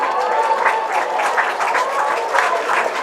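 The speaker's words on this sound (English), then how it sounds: "The fans applaud as he caught it in his hat." Baseball fans in the stands at a USPBL game applaud a catch, a steady wash of crowd clapping with faint voices mixed in, heard from a distance.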